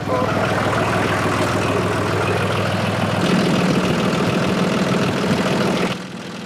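John Deere tractor engine idling steadily in a garage during an oil change, a continuous low rumble throughout that drops away in the last half second.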